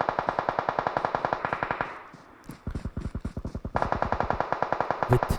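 Rapid automatic gunfire in a PUBG Mobile custom-room battle, bursts of fast regular shots trading back and forth, a brief lull, then heavy sustained fire resuming loud and close.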